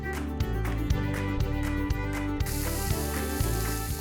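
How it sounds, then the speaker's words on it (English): Onions fry with ginger, garlic, green chillies and a pinch of hing in a pan for cheese kachori, a steady sizzle over a low electrical hum, with regular knocks and a brighter hiss in the last seconds. "we cook this till the onions turn translucent"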